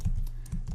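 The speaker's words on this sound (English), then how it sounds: "I'm going to type two kind of @ signs" Computer keys are tapped in a few quick clicks, close and fairly soft, with no voice over them.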